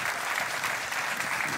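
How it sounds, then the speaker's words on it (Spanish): A short burst of dense audience applause at a Canary Islands parranda folk music gathering, steady and close throughout. "¿Te parece muy bien que te demos un aplauso?"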